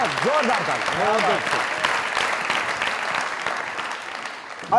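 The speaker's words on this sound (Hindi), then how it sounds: "जोरदार ताली।" A studio audience at a comedy talk show claps loudly and steadily for about five seconds, with a singing voice fading out underneath at the start.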